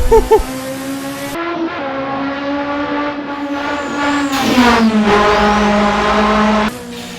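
A Nissan race car engine in Assetto Corsa revs hard through the gears, a loud, close, rising and falling engine note with sharp shifts and a brief tire squeal.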